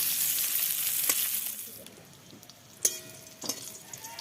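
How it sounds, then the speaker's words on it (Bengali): Steady oil sizzle of bitter gourd frying until reddish-brown in a pan, with a few sharp clicks and scrapes of stirring, no talking. "এবার উচ্ছেটাকে লাল লাল করে ভেজে নেব"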